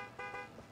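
A toy friction car honks its horn in the video game It Takes Two. A short, faint, buzzy toot wavers over about half a second.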